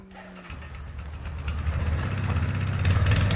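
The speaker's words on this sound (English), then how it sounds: "Cold weather, them 4-wheelers need choke" A four-wheeler ATV engine in cold weather starts up and runs with a rough, building rumble that grows louder over a few seconds, with no talk.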